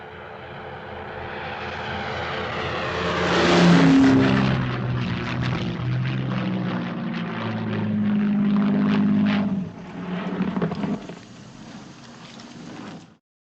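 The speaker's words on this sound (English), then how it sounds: "You can hear the engine cut," A Hawker Hurricane's propeller engine from a Battle of Britain film drones steadily, surges loudly, then briefly drops away before returning and fading out near the end.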